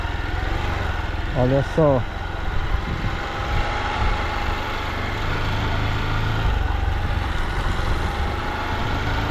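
Motorcycle riding slowly on sand beside shrimp ponds, a steady mid-pitched engine drone throughout, with someone talking briefly over it.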